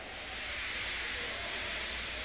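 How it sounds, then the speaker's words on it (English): A steam locomotive lets off steam, a steady soft hiss of escaping vapour holding even and fairly faint throughout, with no voices over it. "He just let off steam feebly."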